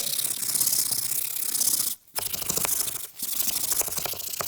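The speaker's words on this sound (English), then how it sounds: "I will brush it again." A brush scrubs shampoo suds into a car seat with dense, close, raspy strokes, pausing briefly twice before scrubbing on.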